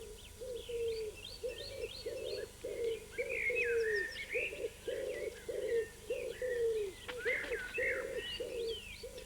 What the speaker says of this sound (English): The mating season for the wood pigeons and stock doves has begun.